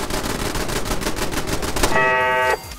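Automated gun turrets in Fallout 4 fire in a rapid, sustained burst of machine-gun shots, loud and continuous, ending with a brief electronic tonal whine before the firing stops.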